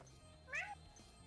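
A person's voice imitates a single cat meow, short and close, with a faint steady hum behind it during a Spyro Reignited Trilogy gaming session.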